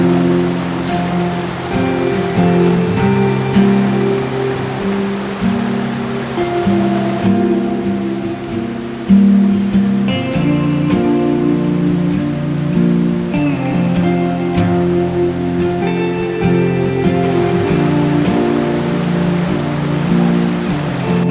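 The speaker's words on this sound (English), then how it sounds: "the sound of water beside me" Elliot Creek rushes beside a forest trail near Goat Lake in Washington's Mount Baker area, a loud, continuous wash of flowing water close by with a steady roaring texture throughout.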